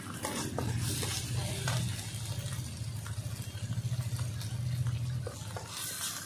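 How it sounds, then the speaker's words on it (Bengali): Ginger paste and turmeric powder are sautéed in a pan, with continuous close stirring and sizzling that scrapes in a rhythmic, repeated pattern throughout. "ভালো করে দেখো কষিয়ে নিচ্ছি"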